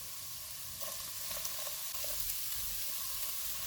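Vegetables fry in a pan over low to medium heat, a soft, steady sizzle and hiss with faint stirring scrapes, close up and fairly quiet, with no talking.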